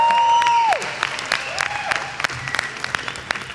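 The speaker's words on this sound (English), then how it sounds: "I want to hear more applause for the awards." An audience applauds at an awards ceremony for the NASA Space Apps Challenge finale in Huntsville, Alabama: scattered, moderately loud clapping that thins out over a few seconds, with a brief tonal whistle-like sound near the start.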